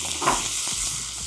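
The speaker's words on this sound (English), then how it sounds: "So I just want to stir fry these until the prawns are just cooked." Prawns and garlic stir-fry in hot oil with a loud, continuous sizzle close by, with brief bumps of the food being tossed and no talk.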